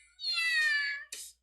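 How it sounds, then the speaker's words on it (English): A single drawn-out meow from a cat in the video game The Fruit of Grisaia, clear and close, followed by a short breathy chirp. "It just meowed, you know."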